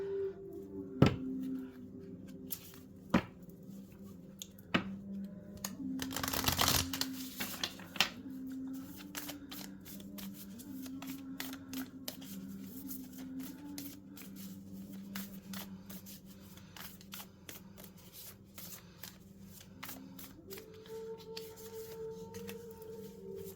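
Tarot cards being shuffled by hand, quick riffles and sharp snaps spaced irregularly, close and fairly quiet, with a faint tonal hum in the background.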